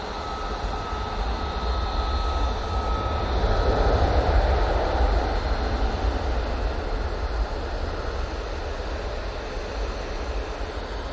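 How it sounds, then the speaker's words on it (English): Gulf Air Boeing 787-9 Dreamliner arriving from Bahrain to land at Manchester Airport, a steady broad engine roar heard from a distance that swells slightly midway and stays constant, no voices. "Gulf Air 787-9 Dreamliner coming in from Bahrain now."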